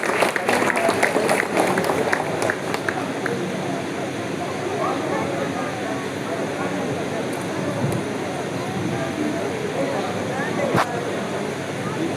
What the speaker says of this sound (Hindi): एक बार जोरदार तालियां लगा दें।